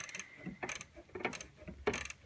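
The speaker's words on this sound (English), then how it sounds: "There's a bracket right here that we can take the bolt off of that's holding the line in place." A ratchet wrench works a bolt loose from the bracket holding an air conditioning line on a Chevrolet Aveo, giving short bursts of close, dry clicking separated by brief pauses.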